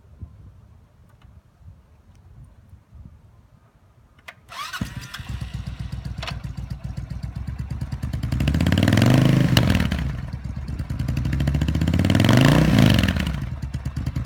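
Used 2006 Suzuki S83 Boulevard 1400cc big bore cruiser motorcycle starting up after a quiet stretch, settling into a lumpy idle, then revved twice with loud rising and falling throttle swells up close.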